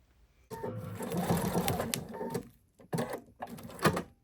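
A sewing machine runs a back stitch through minky and fleece blanket fabric in several short bursts of rapid mechanical stitching, separated by brief pauses.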